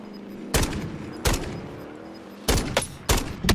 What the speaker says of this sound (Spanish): Ha muerto porque le he pegado un par de tiros